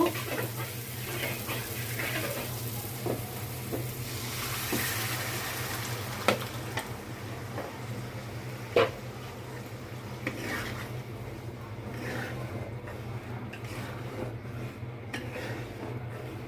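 Potato dal is poured into egg masala in a hot pan, giving a continuous hissing sizzle with a few small metallic clinks.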